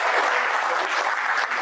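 An audience applause break at a comedy or presentation event, a loud, close, dense burst of clapping that fills the whole short stretch without any talk.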